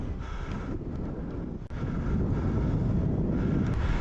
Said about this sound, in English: Hell of a wind against us.